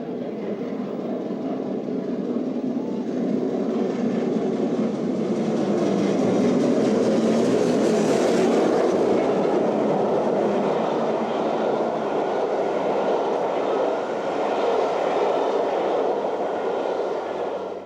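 The Great Western steam locomotive King Edward I rumbles past with a loud, steady roar and rolling wheel noise that swells in the middle and holds, no speech.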